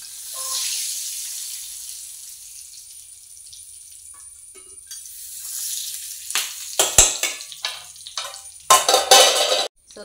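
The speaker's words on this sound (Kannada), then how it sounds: "ಸ್ವಲ್ಪ ಒಗ್ಗರಣೆ ಇಲ್ಲಿ ಹಾಕ್ತೇನೆ." Oggarane tempering of mustard seeds and cut chili added to a pan for mango chutney, with a soft sizzle, then louder bursts of spoon scraping and stirring near the end.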